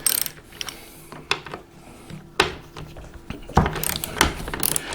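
A ratchet works on the front seat bolts of a Falcon SR6, giving close, crisp clicking bursts of pawl ticks with metallic clanks in between.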